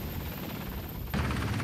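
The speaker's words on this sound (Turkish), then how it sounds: "Tatbikata helikopterler de katılıyor." A military helicopter at the Blue Whale 2014 naval exercise, its rotor and turbine making a constant heavy drone that suddenly swells louder partway through, with no talking.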